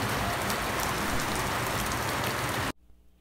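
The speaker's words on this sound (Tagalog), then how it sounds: "Inabot pa ng ulan." Heavy rain pouring down steadily in a dense, loud hiss close by, then cutting off abruptly near the end.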